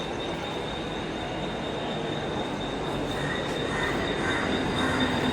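A crowded Mumbai local train runs close by with a loud, steady rumble of carriages on the rails and a thin wheel squeal riding over it throughout, with no talk.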